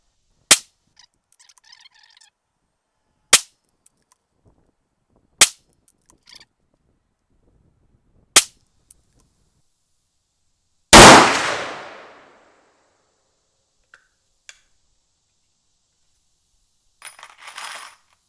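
A CVA Scout TD single-shot rifle in .444 Marlin fires Hornady 265-grain FTX loads outdoors at a range, giving five loud, sharp reports spaced a few seconds apart, the last with a long ringing decay, then faint handling clicks.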